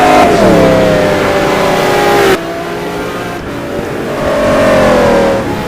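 Nissan GT1 race car revving hard at Magny-Cours, a loud, close engine climbing and dropping through the gears, with a brief lull before pulling up again.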